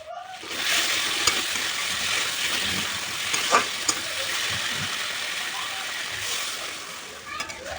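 Spice paste for a small-fish (chuno mach) curry sizzles steadily as it fries in oil in a pan, with scraping stirs and a hiss, then a short splash as water goes in, close and moderately loud.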